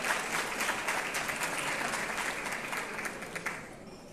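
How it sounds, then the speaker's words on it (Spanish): Audience at a public management conference applauding, a dense steady clapping that holds for several seconds and then thins out toward the end. "Un aplauso para ellos, por favor."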